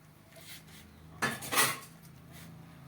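A spoon scrapes and clatters against a pan while ground panjiri ingredients are mixed together off the heat, a short burst of metallic stirring rising over a quiet background with no talking.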